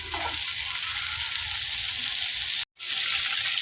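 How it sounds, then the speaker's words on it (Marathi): Paneer cubes frying in a pan of hot oil and butter, a steady close sizzle and crackle that runs unbroken, cuts out for a moment, then resumes just as loud. "आता पनीर घालून घेणार आहोत आपण यात।"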